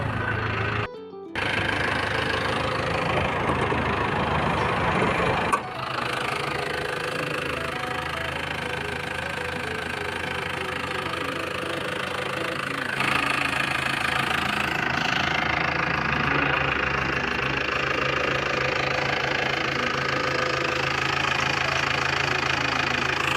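A used Isuzu TFR pickup truck engine idles nearby with a steady, loud mechanical clatter and rumble that runs throughout, broken only by a brief dropout near the start.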